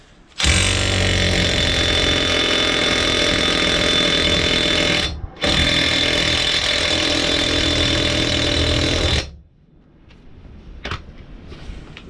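A Parkside 20V cordless impact wrench hammers a nut tight at full power in two long, loud, continuous bursts separated by a brief pause, then cuts out to quieter handling noises and clicks.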